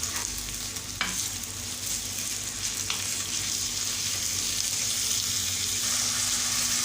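Meat searing in a pot for Egyptian kebab halla, a steady broad sizzle with occasional stirring clinks, loud and continuous throughout with no talking.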